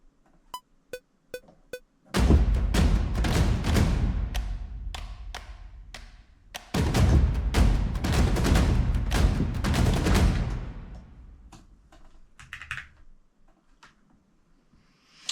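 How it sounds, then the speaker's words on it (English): Deep sub-boom bass drum hits pound in a simple beat, loud and heavy with long booming tails, preceded by a few sharp ticks and leaving sparse clicks after the dense sections. "I like to use sub booms."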